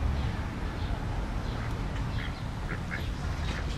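Ducks quacking at a waterside in Nafplio, a few scattered quacks at moderate distance over a steady, fairly loud outdoor background rumble.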